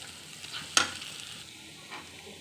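Chopped garlic sautés in a pan beside onions, a faint, quiet sizzle with one sharp utensil clink near the start and a soft scrape later.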